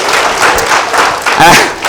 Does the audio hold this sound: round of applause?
yes